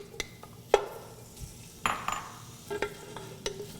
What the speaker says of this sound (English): I'm going to cook down my bacon with a couple tablespoons of olive oil to render out the fat